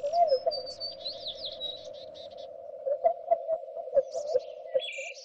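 Birds chirp and tweet in a steady background loop from the Nancy Drew game Alibi in Ashes, bright twittering calls over a constant droning tone, with sharper clicky notes later on and no talking.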